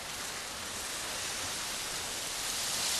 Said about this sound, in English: This is the Fountain of the Deluge